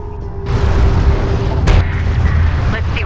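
Heavy weapon fire in a Homeworld: Deserts of Kharak cutscene: deep, sustained booming blasts that roll on for several seconds, with a sharp louder crack about midway, loud and dense.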